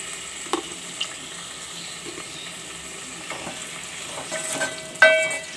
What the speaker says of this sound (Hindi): आलू को हम 1 से 2 मिनट अच्छी तरीके से फ्राई करेंगे।